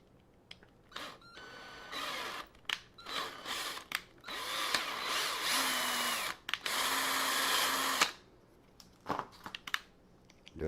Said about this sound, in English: And I just made threads in that aluminum.